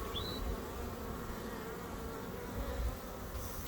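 Honey bees buzz steadily and densely around hive boxes while splits are moved outdoors, a continuous low hum from many insects with a brief higher whine near the start.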